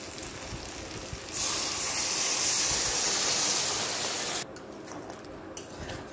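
Boiling hot water poured into a pan of frying mutton, a sudden loud rushing hiss that holds for about three seconds and then cuts off, leaving a quieter simmer with faint scraping.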